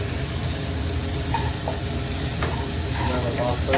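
Chilli gobi with capsicum, cooked in a little oil, sizzles and fries steadily while a spoon stirs it, with faint scraping and clinks over a continuous close hiss.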